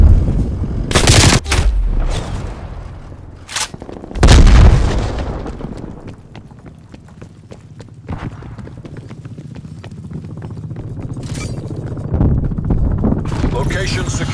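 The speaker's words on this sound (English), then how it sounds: "Sending frag grenade." Call of Duty: Black Ops Cold War multiplayer gunfire, with loud bursts of shots and a heavy frag grenade blast around the four-second mark, followed by quieter scattered shots and in-game radio voices.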